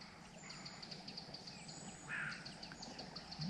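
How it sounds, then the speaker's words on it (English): Faint bird twittering beside a river, a few high thin chirps scattered over a steady rush of flowing water, with one brighter call standing out midway. "You can just hear the birds twittering."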